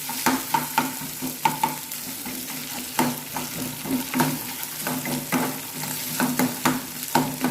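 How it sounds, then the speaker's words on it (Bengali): Grated coconut and colocasia stems stirred in a frying pan, a steady oily sizzle broken by repeated scraping strokes of a spoon, close and fairly loud with no talking. "আমি একটু কুড়িয়ে নিয়েছি, একটু নাড়াচাড়া করে নেবো, বেশি নাড়াচাড়া করবো না।"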